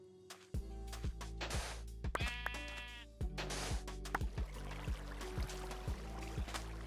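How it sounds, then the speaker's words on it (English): Sheep bleat repeatedly in a Minecraft game world, several clear calls spread through the clip over a steady background with game sound effects; no one speaks. "Oh, we got sheep and pigs nearby."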